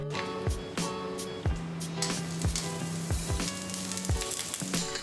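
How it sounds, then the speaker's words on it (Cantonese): Garlic sizzling in hot oil in a wok over medium heat, a dense crackling hiss with repeated sharp spatters and pops, close and continuous for several seconds, no talking. "爆香蒜頭"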